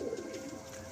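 Pigeons coo in a fancier's loft near Diamond Harbour, a soft, low throaty burble rolling on steadily for under a second with no voices.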